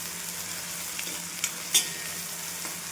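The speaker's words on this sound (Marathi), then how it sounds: "कांद्यामध्ये हिरवी मिरची आणि लसूण पण भाजून घेऊ" Onion, green chili and garlic fry in a pan for a village-style vegetable dish, a steady hissing sizzle with a couple of brief sharp stirring scrapes near the end, no talking.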